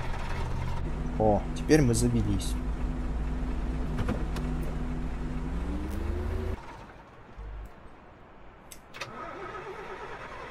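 An Ikarus bus engine in Bus Driver Simulator 19 cranks with rising whines and then catches into a steady idle hum before cutting to quieter cabin noise, under brief speech.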